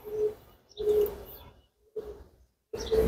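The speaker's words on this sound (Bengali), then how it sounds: "এটা হলো মিলিটারি কবুতর" Military pigeons coo in a loft, giving several soft, low, rounded calls in short bursts separated by brief pauses, close by and fairly quiet.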